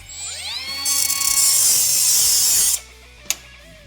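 A power tool cuts through an old brake cotter pin on a Chevy S-10 during a brake overhaul: a whirring spin-up, then a loud, harsh, high grinding screech held for about two seconds that stops abruptly, followed by a brief metallic tick.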